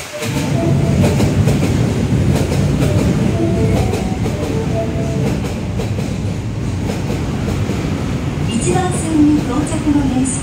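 An Osaka Metro Midosuji Line subway train pulls into the platform, its loud, steady rumble and rail clatter filling the station, with brief high squeals near the end as it slows to a stop.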